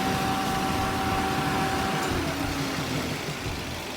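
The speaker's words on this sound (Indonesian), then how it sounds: "AC normal, nyeteknya kompresor AC-nya bagus, extra fan-nya juga aktif." A 2010 Toyota Avanza S automatic with its air-conditioning compressor and extra cooling fan running, giving a steady, close whirring hum with a thin tonal whine and no voices.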